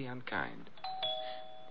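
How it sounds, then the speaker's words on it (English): Two clear doorbell chimes ring out and sustain, sounding a little distant, while a person speaks briefly at the start. "It seems to be the doorbell again."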